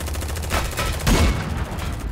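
Gunfire during a battle in the Silica shooter/strategy game, a dense rattle of overlapping shots with a heavier boom in the middle, steady and loud.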